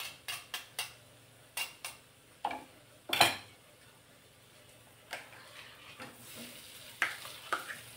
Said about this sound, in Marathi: आता हे आपण जे आलू आणि रताळे मॅश करून घेतलेले आहेत ते टाकून घेऊ।